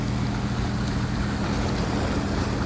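Water churned up by passing boats rises and washes against stones beneath a house, a steady loud rush of surf with wind buffeting the microphone throughout.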